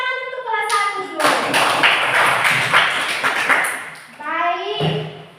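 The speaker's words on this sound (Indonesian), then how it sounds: "tepuk tangan untuk kelas 1 dulu" Schoolchildren in a first-grade classroom clap together in a quick burst of rhythmic applause lasting a few seconds, framed by a teacher's speech before and after.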